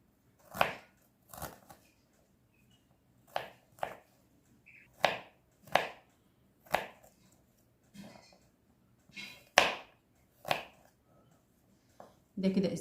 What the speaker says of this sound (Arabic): نقطع الزنجبيل قطع صغيره خالص